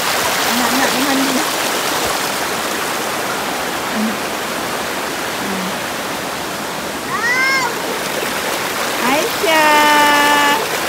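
River water at a campsite flows in a loud, steady rushing wash, heard close, while faint voices and brief calls, including a child's, rise above it toward the end.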